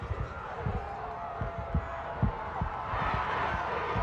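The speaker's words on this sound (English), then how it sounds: "we got a lot of noise coming from the crowd here as they're anticipating this call to see what's going to happen" Crowd noise from a high school football game between the Hampton Crabbers and Phoebus Phantoms, a steady murmuring roar that swells slightly near the end, with scattered low thumps and bumps beneath it.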